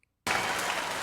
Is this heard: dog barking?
no